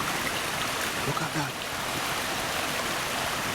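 A river rushing past boulders in a Japanese forest, heard as a steady broadband wash of flowing water close by, with someone speaking briefly over it.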